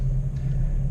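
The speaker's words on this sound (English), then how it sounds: "It's a Ford F-250 V10 I guess Power Stroke." Ford F-250 V10 pickup truck driving past, a steady low engine rumble filling the short moment without a clear rise or fall.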